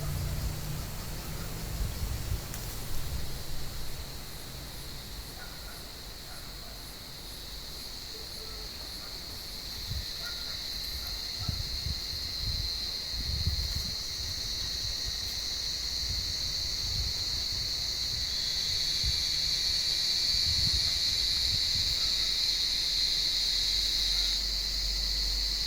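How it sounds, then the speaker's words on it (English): Cicadas singing from an olive tree give a steady, high buzzing drone that swells louder toward the end, over low outdoor rustling and scattered thumps. "Harry heard those cicadas"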